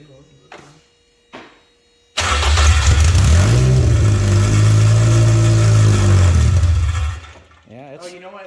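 A few soft clicks, then the K24-swapped Toyota MR2's engine cranks and catches on its first start, roaring loudly and revving for several seconds before cutting off; brief voices at the end.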